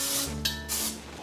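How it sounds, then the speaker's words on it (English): Two short bursts of cooking spray hiss onto a cake pan for pound cake, close and fairly loud, with a low background hum running beneath. "First, you need to spray your pan."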